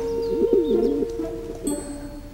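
A pigeon coos nearby in a short, rolling, throaty phrase, then gives a second fainter coo, with no talking.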